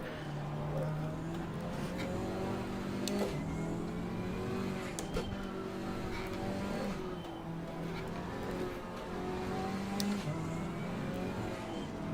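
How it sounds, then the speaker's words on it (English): A Maserati GT race car engine in Assetto Corsa Competizione, racing in a big grid at Suzuka, roars loud and close, with rising and falling revs, gear shifts and sharp clicks. "Maserati is so imposing sounding."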